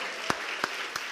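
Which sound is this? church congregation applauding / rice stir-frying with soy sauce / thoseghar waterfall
church congregation applauding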